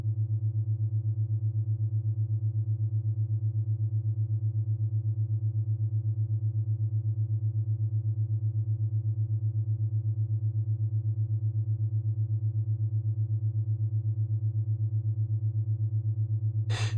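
Steady binaural beat sine tones generated in VCV Rack, a low continuous hum with a faint upper partial and a slow, even pulsing throughout, ending in a brief click.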